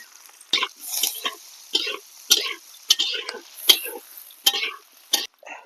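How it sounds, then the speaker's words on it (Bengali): Onion stirred into hot oil with spices in a farm kitchen, giving repeated short scraping and sizzling bursts in a steady rhythm, close and fairly loud, with a low sizzle between strokes. "তেল গরম হয়ে গেছে এই যে এখন পেঁয়াজ"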